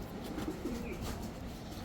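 Racing pigeons coo softly in a loft, a few low murmuring calls close by over a steady background hum, with no talk.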